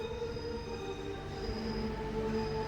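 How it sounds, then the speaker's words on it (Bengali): A toy train passes right beside a park near Siliguri, a faint steady rolling rumble with thin squealing tones from the wheels, heard from a distance with no talk. "ওই বেরিয়ে গেল টয় ট্রেন, পার্কের ঠিক গা ঘেঁষে বেরিয়ে গেল"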